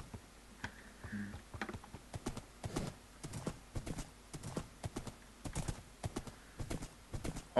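Horse hooves clip-clop in Minecraft, a steady run of quiet, evenly spaced hollow taps over several seconds with a faint low background hum.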